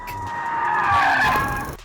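Tyres of a BMW M5 squeal loudly in a sustained skid through a power slide, a continuous high screech lasting under two seconds before cutting off.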